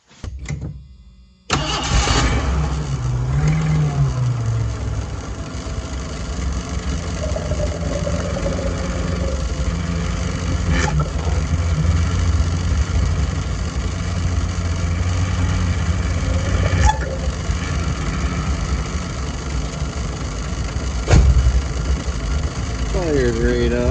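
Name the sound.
Mercury Zephyr engine starting and idling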